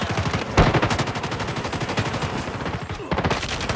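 Rapid automatic gunfire rattles through a Call of Duty match, loud close bursts of shots with a heavier blast early on and a short pause before firing resumes.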